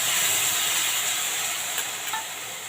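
Tomato paste hitting a hot pan with spices for an egg curry, a loud continuous close-up sizzle and hiss with a couple of brief stirring clicks near the end.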